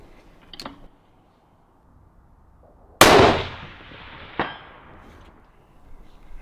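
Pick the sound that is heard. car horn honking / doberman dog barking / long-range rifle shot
long-range rifle shot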